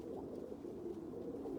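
Faint, steady cooing of roller pigeons inside a coop, a low continuous murmur with no voices over it.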